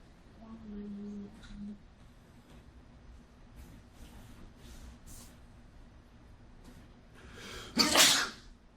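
A single loud, sharp sneeze bursts out near the end, following a stretch of quiet room noise with faint murmuring.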